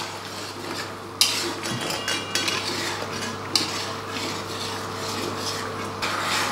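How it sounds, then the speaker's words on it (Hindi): Mutton karahi gravy being stirred in a wok with ghee and red chili, a steady low scraping and stirring with a few sharp metal clinks of the spoon against the pan, close and alone. "तो बस इस तरह हल्का हल्का हिलाएं ताकि सारी कढ़ाई, सारी ग्रेवी अच्छी तरह भुन सके।"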